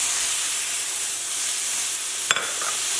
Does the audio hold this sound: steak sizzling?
yes